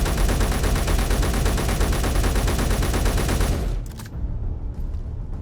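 Dense, loud automatic gunfire in the Space Engineers video game, an unbroken hammering stream of rapid shots that cuts off abruptly, leaving a low hum and a few faint clanks.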